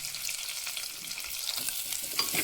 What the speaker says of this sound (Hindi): सबसे पहले हम गोभी को रोस्ट कर लेते हैं ताकि इसका कच्चापन निकल जाए।